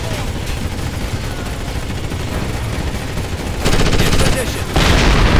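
Sustained automatic gunfire in the tactical shooter Ghost Recon Advanced Warfighter, a dense crackling barrage that grows louder and more intense toward the end, with a brief radio-style voice speaking over it.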